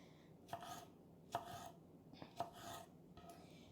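A knife roughly chopping vegetables on a cutting board in a home kitchen while making tacos, four or five sharp, quiet thuds spaced unevenly and close by, with no talking.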